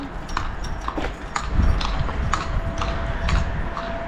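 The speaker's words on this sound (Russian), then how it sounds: "Вот такой транспорт можно встретить в городе. Усталая лошадка." A tired horse pulling a cart through a Serbian town clip-clops in a steady, even walking rhythm, close and clear over light street ambience.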